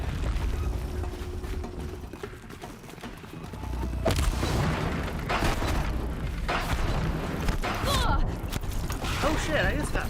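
Sticky bombs blasting repeatedly in Horizon Zero Dawn amid game combat, with loud bursts and booms over a dense mechanical din and scattered crackling impacts.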